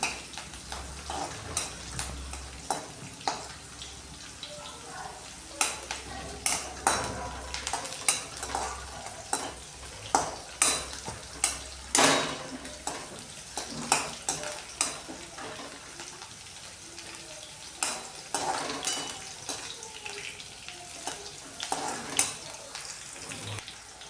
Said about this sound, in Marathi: आता ह्या मिरच्या चांगल्या परतत आल्या आहे